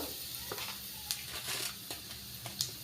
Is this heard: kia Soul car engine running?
no